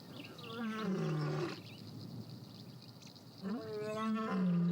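Male lion roaring in the wild, two deep, powerful harmonic roars separated by a pause, loud and close, with faint insect buzz in the background.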